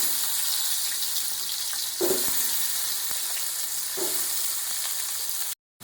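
Chopped onion pieces fry in oil in a pan with a constant close hiss. A couple of faint knocks or stirs come through near the middle, and the sound cuts to silence at the very end.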